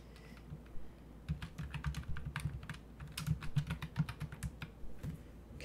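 Fast, uneven bursts of typing on a computer keyboard during music production work, clicky keystrokes close and distinct, with brief pauses between runs and a quiet room behind them.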